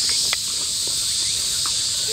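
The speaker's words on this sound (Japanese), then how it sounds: "ほら、ね、コオロギ。" In a garden bush, a cricket's steady high chirping hums continuously, joined by faint rustles and small scuffs nearby, with no clear speech.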